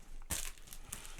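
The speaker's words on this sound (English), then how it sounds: "Crinkly rubber gloves." Crinkly rubber gloves crinkle and crunch close up in one sharp burst, followed by quieter scattered rustles.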